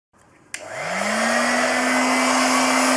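Heat gun starting with a sharp click and spinning up into a steady, loud whooshing blow, used for flattening the creased upholstery on a Lotus Excel dashboard; it holds a constant drone once at speed, with no talking.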